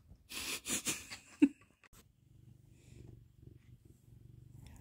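A pet cat purrs softly and steadily close by, a low continuous rumble that follows a few louder breathy, snuffling sounds at the start.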